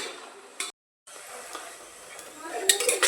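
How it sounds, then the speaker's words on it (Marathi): Onion sautéing in a pan gives a soft, steady sizzle with light scraping stirs, briefly cut off, then returning with crisper crackles toward the end; someone speaks over it. "आता कांदा चांगला परतून घेते."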